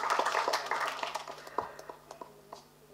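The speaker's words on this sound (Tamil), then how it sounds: "ஒரு கைத்தட்டிடுவோம், உண்மையான கைத்தட்டு" Scattered hand clapping from a press meet audience for a film trailer, a dense patter at first that thins out into a few sparse claps, with faint voices underneath.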